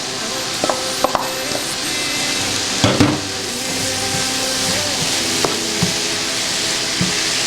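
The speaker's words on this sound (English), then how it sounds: "We're going to stir a little bit." Leek, celery and potato soup ingredients sizzling as they fry in a pot, with a few scattered spoon taps and scrapes against the pot over a steady, hissing background.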